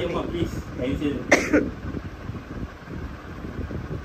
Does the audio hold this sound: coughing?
yes